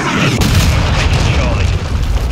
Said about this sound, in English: Hostile cruise missile incoming.